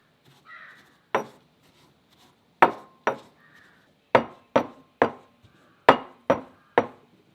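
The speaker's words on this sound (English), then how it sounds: "take oats in a mortar and pestle and grind as finely as you can" A pestle pounds oats in a mortar in about nine sharp, loud knocks at an uneven pace. They ring out close against a quiet background, with faint scuffs in between and no talking.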